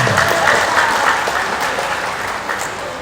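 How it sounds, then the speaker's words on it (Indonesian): Crowd applause at a political speech in Bogor, with dense, even clapping from a large audience that holds steady for a few seconds before easing slightly. "Tepuk tangan"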